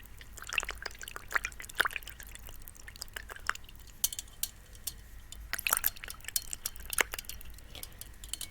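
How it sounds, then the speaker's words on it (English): Water drips and small liquid plinks from a paintbrush being flicked during a quiet painting session, scattered irregular drops close to the microphone with light clinks, no talking. "for those who like the water sound"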